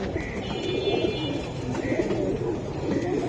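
Giribaz pigeons at a busy pigeon market give low, steady cooing that runs through the whole stretch, close by under a constant crowd murmur.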